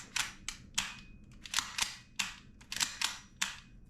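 Repeated sharp snaps from the blowback and trigger of a Novritsch SSQ4 airsoft gun, about a dozen close, crisp clicks in an irregular rhythm with no talk.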